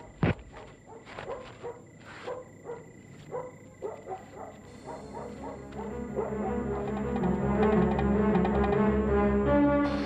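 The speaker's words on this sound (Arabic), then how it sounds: "ده صوت الكلاب في الجنينه." Dogs barking in a garden at night, a rapid series of sharp barks that gives way to a dense, overlapping chorus of yelps and howls, growing louder and busier toward the end.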